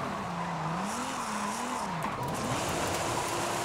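A modified 2019 Nissan 370Z drifts in Forza Horizon 5, its engine note rising and falling continuously with a steady tire-squeal wash, close and loud throughout with no pauses.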